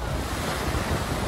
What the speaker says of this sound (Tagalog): Naglalakihang mga alon din ang humampas sa baybayin ng ilang bayan sa Bohol